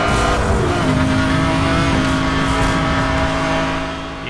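McLaren F1 supercar racing at full throttle on a mountain road in the game Need for Speed Hot Pursuit 2010, a loud sustained high-revving engine whine with tonal harmonics, easing slightly near the end.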